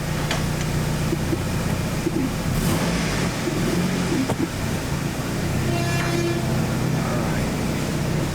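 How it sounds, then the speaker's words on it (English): A car's engine runs steadily as it is backed down off ramps onto level ground after an oil change, a constant close mechanical drone with a few faint clicks and clunks. "we're going to back her up off the ramps and put her on the ground."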